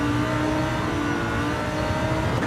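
A race car engine revving hard in Gran Turismo 7, a loud, continuous high-pitched roar held close and steady with no talk over it.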